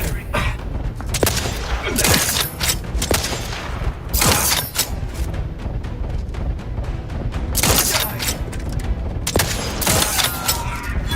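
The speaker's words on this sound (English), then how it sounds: "More firing." Heavy gunfire in the video game Outer Worlds 2, with dense bursts and booming blasts coming fast and loud in overlapping volleys throughout, and impacts and mechanical clatter mixed in.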